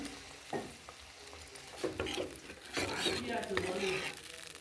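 Garlic masala for a satin fish curry sizzles and fries in a pan in a village kitchen, with intermittent scraping stirs and a few soft utensil knocks over a steady close hiss.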